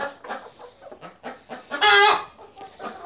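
Chickens clucking close by in a steady, busy chatter on a farm in Taiwan, with one louder, longer squawk rising above the flock partway through.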